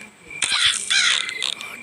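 Crow cawing in the horror video game Granny 3, a few harsh caws close by, layered with game ambience while a person talks over them.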